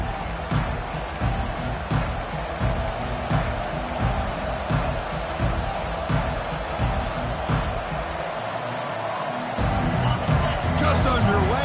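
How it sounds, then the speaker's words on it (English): A home crowd in the College Football 25 video game roars steadily through a playoff game, a dense, continuous wall of cheering and babble under a commentator's voice. "this home crowd is fired up and ready to make a difference today"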